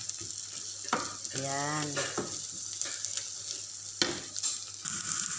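Garlic, cut into large, coarsely crushed pieces, fries in a pan with a steady broadband sizzle, joined by a short stir and scrape; someone speaks briefly over the cooking.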